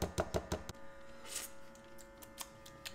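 A blender blade knocked against a surface to shake off excess smoothie, a quick run of four sharp knocks, then a few sparser, fainter taps in a quiet room.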